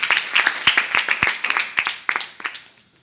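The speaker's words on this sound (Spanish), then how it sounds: "Dale ofrenda de palmas a Dios" A church congregation claps in a brief, lively burst of sharp, uneven handclaps that quickly tapers off.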